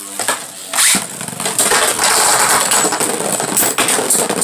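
Beyblade spinning tops launched into a plastic stadium, bright metallic clattering and whirring with sharp clicks of the tops colliding, close and fairly loud.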